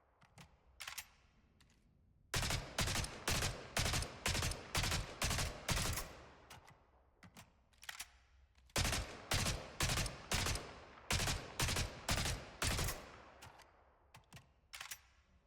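The Trident assault rifle in Spectre Divide fires sharp, rhythmic bursts, a few isolated shots followed by two long runs of evenly spaced, loud, close cracks separated by a short pause.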